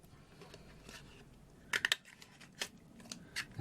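Fussy cut scissors snip through cardstock paper while freehand cutting a handle shape, giving a few sharp, close crunchy snips in quick clusters over a quiet background.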